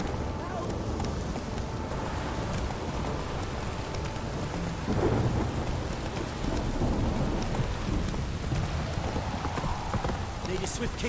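Hoofbeats of Roach, the horse in The Witcher 3, sound through a heavy in-game thunderstorm with steady rain and rolling thunder, partly masked by the weather noise.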